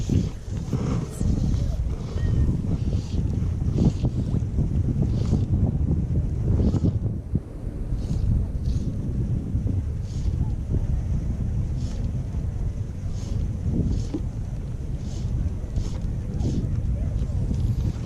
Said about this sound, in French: il y a le vent qui souffle